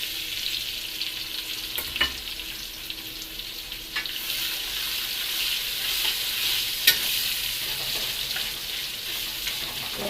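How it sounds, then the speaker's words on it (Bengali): Onions frying in a pan just after potatoes were lifted out, a steady close hiss of sizzling oil with occasional scraping stir clicks, no talking. "তুলে নিয়ে এবারে পেঁয়াজটা দিয়ে দেবো আমি।"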